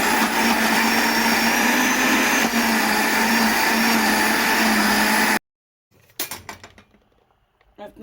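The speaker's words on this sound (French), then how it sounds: "Et je vais mixer ensemble avec tous les légumes." An electric blender mixes roasted api seeds with peppers and vegetables, a loud steady whirring grind for about five seconds, then it cuts off and leaves softer clattering.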